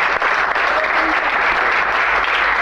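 Sustained applause from a large audience at a French-language religious gathering, dense steady clapping that stays loud and even throughout with no pauses.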